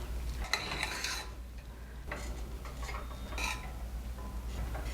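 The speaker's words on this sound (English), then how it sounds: "So now let's fluff the rice from the bottom." Cooked multigrain rice with haiga rice and buckwheat being fluffed from the bottom of the pot, producing a few soft scraping, stirring strokes at close range over a quiet steady background hum, with no talking.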